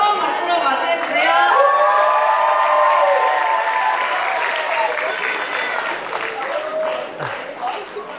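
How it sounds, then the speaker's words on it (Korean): Audience applause and cheering at a Catholic university evening event, a full, sustained round of clapping from a crowd welcoming performers onto the stage, steady and loud throughout and easing slightly toward the end, with some chatter mixed in. "여러분 뜨거운 박수로 맞이해주세요."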